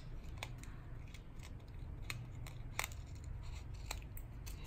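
Scissors snip repeatedly through excess tulle on a craft shaker banner clip, a quick irregular series of crisp close cuts over a soft steady room hum.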